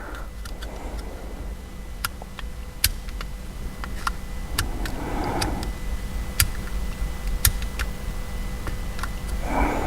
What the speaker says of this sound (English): I heard something click underneath, so it's showing me 4-wheel drive high now